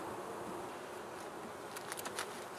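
Honey bees drone in a steady, faint buzz around an open hive during an inspection, with a few louder bees passing close near the end.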